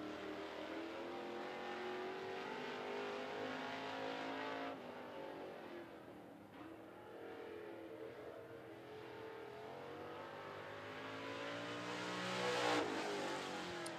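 A sportsman race truck on a qualifying lap at 411 Motor Speedway, its engine roaring loud and continuous, rising and falling in pitch as it accelerates past and around the track.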